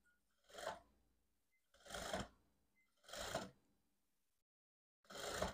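Sewing machine stitching a blouse: four short, separate runs of rapid mechanical whirring with quiet pauses between them, close and fairly soft.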